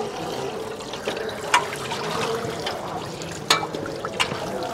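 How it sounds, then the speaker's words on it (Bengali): A metal meal plate washed under running water at a communal dining hall during the Prayagraj Maha Kumbh Mela 2025, with a steady near stream of water and a few sharp clanks and splashes. "থালা নিয়ে পুরো ধুয়ে নিতে হবে"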